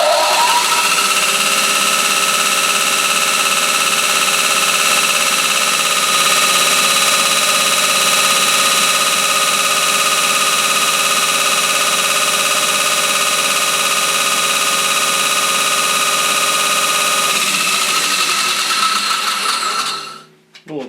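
A belt grinder fitted with a homemade glued sandpaper belt runs loud and steady at close range, a constant whining motor hum with belt whir for about twenty seconds before spinning down abruptly at the end.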